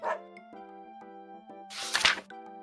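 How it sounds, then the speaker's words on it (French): A dog barks a couple of times, short sharp yaps over a steady musical backing, the loudest burst near the end. "Dog."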